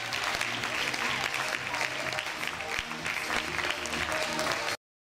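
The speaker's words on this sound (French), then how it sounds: "Vous pouvez les applaudir aussi très fort" An audience claps loudly for candidates stepping onto the podium at a French local festival's queen election. The dense, continuous applause carries a faint background murmur and then cuts off abruptly just before the end.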